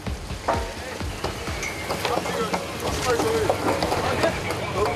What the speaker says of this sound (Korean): 이 순간 갑판 위에서 들리는 건 투망을 위한 기계 소음뿐입니다